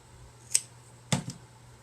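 Trimming the end off a craft piece with scissors, one crisp snip followed by a double snip, close and quiet against a faint background hum.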